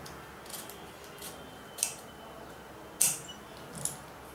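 Scissors cutting fabric for a deep kurti neckline, several quiet crisp snips at uneven intervals, the clearest near the middle and end, with no talking over them.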